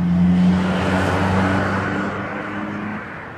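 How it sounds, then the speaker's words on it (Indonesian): Evening street traffic on Jalan Pelita in Batam, a steady wash of car engines and road noise with one vehicle droning nearby, fading slightly toward the end. "beginilah suasana Kota Batam kalau di sore hari ya, khususnya di Jalan Pelita ini ya"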